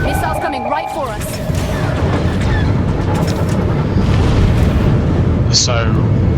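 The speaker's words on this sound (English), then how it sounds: "Taking damage. Because gunships can do things that other ships can't. Missiles coming right for us." Missiles strike a gunship in a space combat video game, with continuous heavy rumbling explosions and impact noise and game effects under a steady loud roar.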